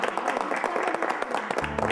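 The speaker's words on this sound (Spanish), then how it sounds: "un aplauso" A small audience at a first aid class claps, a short burst of scattered, fairly quiet applause lasting under two seconds.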